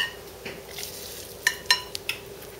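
Water sizzles and spits in a hot pan while stuffed cabbage cooks, a soft steady hiss broken by a few sharp pops and crackles near the end.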